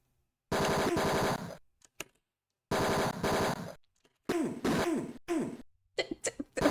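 Bursts of gunfire from the 1989 video game Tex Murphy: Mean Streets, several harsh rapid-fire volleys separated by silent gaps, followed by a cluster of shorter sharp shots near the end.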